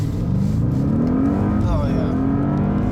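An Audi S8 launches and accelerates hard, its engine note climbing steadily through the rev range before a brief gear change, close and loud inside the car, with people talking over it.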